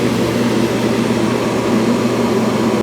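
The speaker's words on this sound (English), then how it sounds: "Start auto empty. Here comes the auto empty." A Dreame L10s Ultra robot vacuum dock auto-empties with a loud, steady suction roar that runs unbroken close by and cuts off abruptly at the end.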